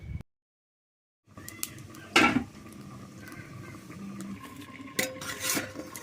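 A metal lid is set onto a pot of simmering gugli snail and potato curry, bringing a sharp clink and a second clatter later over a faint, quiet bubbling.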